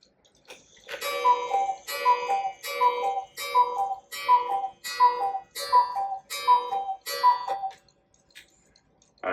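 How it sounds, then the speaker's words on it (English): A 24- or 30-hour half-hour cuckoo clock with carved wooden casing ticks in a steady, even rhythm, about eight clear, close ticks before fading to near silence. "It's a nice clock."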